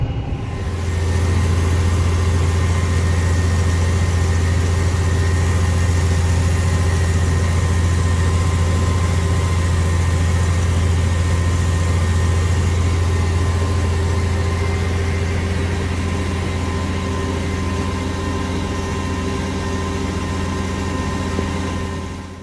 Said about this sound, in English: So we're headed back to get the spray tractor and get it sprayed.